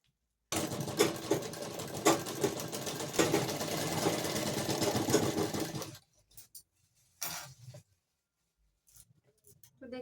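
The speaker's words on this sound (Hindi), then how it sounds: "उस साइड को हम पलटते हुए तब हम इसमें अब सिलाई लगाएंगे" Sewing machine stitching along the edge of a bridal lehenga blouse neckline: a close, steady mechanical whir with rhythmic needle ticking for about five seconds, then stopping, followed by faint handling noises and someone talking.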